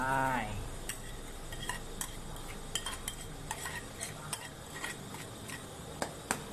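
Egg and watermeal curry being stirred in a pot, with a steady run of light spoon scrapes and clinks against the metal at close range, each scrape short and distinct, over a quiet simmer and no talking.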